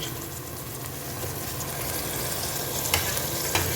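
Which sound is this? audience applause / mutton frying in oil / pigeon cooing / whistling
mutton frying in oil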